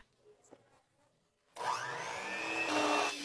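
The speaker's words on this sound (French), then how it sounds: "Mélangez bien les deux ingrédients à l'aide d'un mixeur." A handheld mixer blends cream and condensed milk for homemade ice cream, starting abruptly after a quiet pause and whirring loud and steady to the end.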